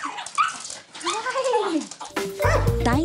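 A pet dog whines and yips in rising and falling whimpers, followed by a short bark, close by, with other sounds and voices mixed in near the end.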